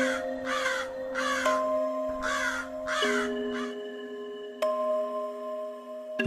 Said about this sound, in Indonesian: sampai suara burung yang mencekam menyambut kami dari arah hutan